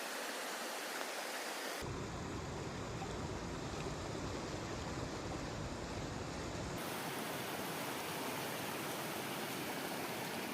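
Water being poured to wash a bike makes a loud, dense, continuous rushing splash that fills the whole stretch, shifting in tone partway through as the flow changes, with no voices.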